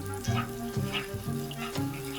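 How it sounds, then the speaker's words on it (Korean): Minced frozen garlic sizzling in hot olive oil in a preheated pan, a steady close frying hiss with soft periodic stirring scrapes, no voices. "어느 정도 팬이 달궈지면 다진 마늘을 넣어주세요. 저는 냉동 마늘밖에 없어가지고 냉동 마늘 넣어줬어요."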